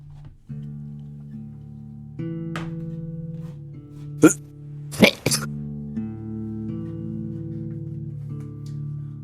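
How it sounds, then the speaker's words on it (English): Game-show style cough sounds from Inscryption IRL, a few sharp bursts around the middle over a steady electronic musical drone, with a brief vocal hiccup-like noise earlier. "I've just been coughing like this all day"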